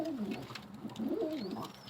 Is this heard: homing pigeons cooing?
yes